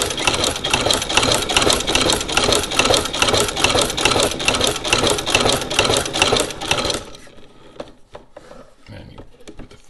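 A walking-foot sewing machine stitches canvas with a loud, steady, rapid mechanical chatter for about seven seconds, then stops, leaving faint handling noises.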